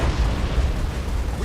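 Torpedo explosions in the space strategy game Battlefleet Gothic: Armada 2, a continuous loud, deep rumbling boom filling the whole moment with low bursts and heavy bass.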